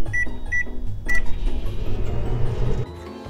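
Three short electronic beeps from a toy microwave oven, followed by a low whirring hum as it runs to heat leftovers, close and moderately loud with no talking.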